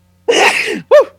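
A single loud, close sneeze from a man during a podcast conversation: a sharp burst followed by a short voiced tail, heard on its own.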